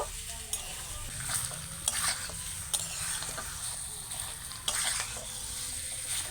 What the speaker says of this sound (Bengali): এবার আমি আলু আর মশলাটাকে আবারও কিছুক্ষণ একটু ভালো করে কষিয়ে নেব